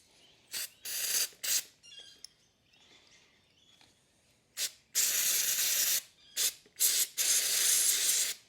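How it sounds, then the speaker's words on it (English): Carby cleaner sprays onto a Victa two-stroke carburettor in short loud hissing bursts, several quick blasts early, a quiet gap with faint clicks, then longer bursts to finish. "let's get some carby cleaner, because there's no gaskets in this at all."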